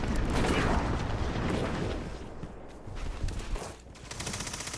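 Rapid SMG fire rattles in a Destiny 2 match, with dense bursts of shots loudest early on, then thinning into scattered impacts and game effects.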